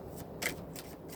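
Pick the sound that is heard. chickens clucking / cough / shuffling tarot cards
shuffling tarot cards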